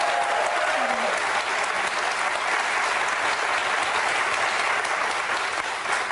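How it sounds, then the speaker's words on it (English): Studio audience applause on a TV talk show, a loud, dense, unbroken roar of clapping sustained evenly from start to finish. "And they deserve all our applause today."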